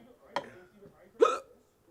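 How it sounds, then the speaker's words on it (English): Two short, sharp hiccups sound close by, one brief jolt followed by a louder voiced gulp a moment later. "I just had a hiccup"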